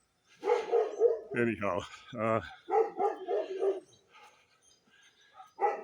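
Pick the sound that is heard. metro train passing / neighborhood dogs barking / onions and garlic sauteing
neighborhood dogs barking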